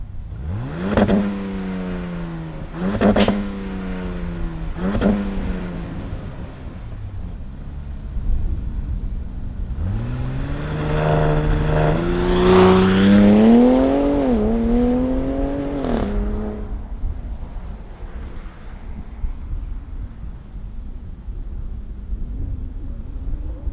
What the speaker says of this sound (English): let's fire up this straight 6 twin turbocharged truck and hear what it sounds like